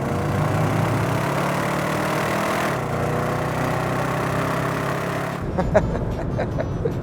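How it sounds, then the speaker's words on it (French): A sporty minivan's 6.2-litre engine runs at a steady, loud drone for about five seconds, then cuts to a rougher, quieter burble near the end. "Le 6 litres 2 qui est sous le capot est l'un des 10 meilleurs moteurs jamais produits dans l'histoire de l'automobile"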